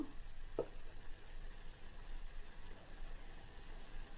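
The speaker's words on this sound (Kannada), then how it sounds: "ಚೆನ್ನಾಗಿ ಒಂದು ಐದು ನಿಮಿಷ ಈ ಥರ ಅದನ್ನು ನೀಟಾಗಿ ಎಲ್ಲ ಹೊಂದ್ಕೊಳ್ಳೋ ರೀತಿ ಫ್ರೈ ಮಾಡ್ಕೊಳ್ಳಿ" Mixed vegetables and fenugreek leaves fry in a pan for pulao, giving a faint, steady sizzling hiss with one brief clink of a utensil near the start.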